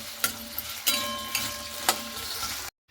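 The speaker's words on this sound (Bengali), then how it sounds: "এখানে আমি আলুগুলোকে খুব সুন্দর লাল লাল করে কিন্তু ভেজে নেব।" Potatoes frying in mustard oil in a pan, giving a continuous close sizzle broken by a few spatula stirs and light clinks before cutting off abruptly.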